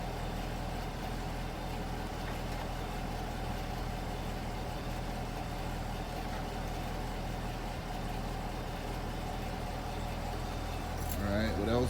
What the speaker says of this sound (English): Forgot I had my car running.